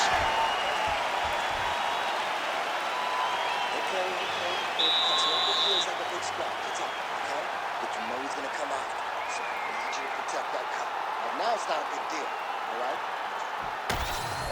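A fight crowd applauding and cheering after a round at a World Grand Prix final, a broad roaring wash of clapping and voices throughout, with a brief whistle and a sharp bang near the end.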